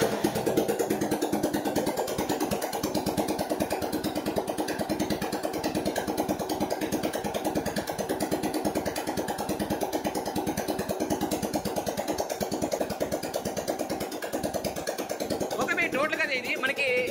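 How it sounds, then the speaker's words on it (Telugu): A freshly assembled motorcycle engine runs steadily at a rhythmic idle, with a close, continuous pulsing beat throughout and a brief higher rising sound near the end; no speech is heard over it. "అయితే ఒకసారి మీరు ఇంజిన్ బీటింగ్ అయితే వినేసేయండి."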